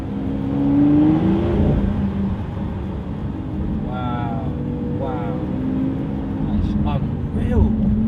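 A Lamborghini Aventador SV engine drones and revs while driving with the window down, its low rumble steady under close talking, with a few brief higher revving sweeps later.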